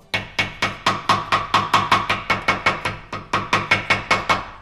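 A steady series of sharp hammer taps on gasket material, about four per second, close and evenly paced with a brief gap partway through.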